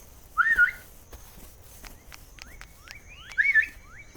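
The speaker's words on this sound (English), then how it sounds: "the whistling really only calls the moos, apparently" Two short whistled calls used to summon cows in the video game Dinkum, each a brief rising-falling tone about three seconds apart, standing clear over faint background game sounds with no talking.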